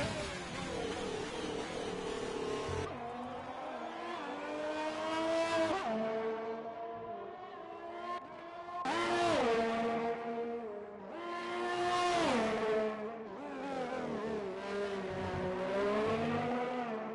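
A Haas F1 car laps the Canada circuit in F1 2020. The engine screams high and continuous, its pitch climbing through the gears, dropping on braking and surging again on exits, with no talk.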